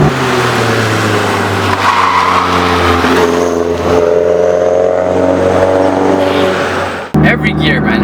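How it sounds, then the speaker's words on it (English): A 330 hp turbocharged Mazda MazdaSpeed3 revving hard through the gears with rising tones, a short break between shifts, and a faint turbo spool whistle at the top. "every gear you're gonna hear that little the little turbo spool"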